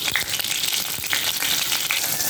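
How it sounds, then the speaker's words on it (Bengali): Hilsa fish heads frying in hot oil in a wok, a dense, loud, continuous sizzle with crackling pops scattered throughout. There is no talking. "মাছের মাথা দুটো আর একবার করে ভেজে নেব"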